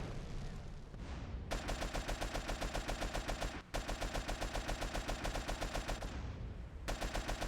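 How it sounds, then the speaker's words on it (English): A vehicle in Grand Theft Auto: San Andreas bursts apart amid loud, rapid, sustained gunfire-like bursts that repeat in dense rhythmic volleys, pausing briefly twice before resuming. "Ah, the van blew up."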